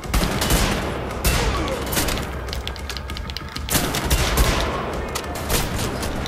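Sustained gunfire from the first-person shooter Wolfenstein: The Old Blood, with dense overlapping bursts and shots rolling on continuously and loudly, no voices over it.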